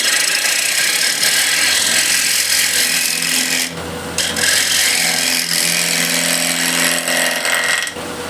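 Wood lathe with a gouge shear scraping a walnut or cherry plate, a continuous close hissing scrape with steady motor hum running almost unbroken, briefly dipping midway.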